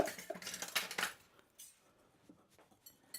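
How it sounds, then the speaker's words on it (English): A whisk mixes dry ingredients with fine salt in a bowl for banana cookie batter, making quiet, quick metallic clinks and scrapes early on that fade to soft, sparse taps. "I'm just going to use the whisk,"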